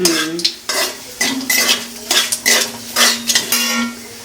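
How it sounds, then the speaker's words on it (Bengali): A utensil scrapes and clinks rhythmically against a pan, stirring black cumin seeds over a soft frying sizzle, close and fairly loud. "এখন একটু নাড়িয়ে চাড়িয়ে নেবে যাতে খুব সুন্দর করে জিরেটা কালো জিরেটা ভাজা হয়"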